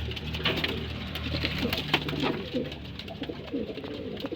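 Pigeons coo in low, repeated murmurs amid soft rustling and fluttering, several birds close by and overlapping.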